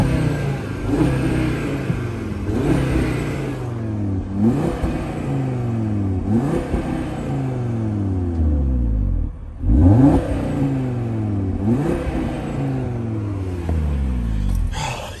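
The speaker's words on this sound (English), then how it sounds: "Gonna give it a bit of a soft limiter rev." An Audi RSQ3 Vorsprung's engine revs repeatedly up to the soft limiter, each blip climbing sharply then falling back toward idle, loud and close in a steady series of about ten pulls.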